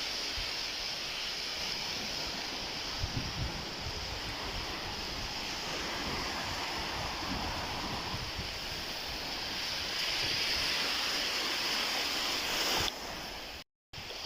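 Steady roar of surf washing in, broad and continuous, with wind buffeting the microphone and no voices.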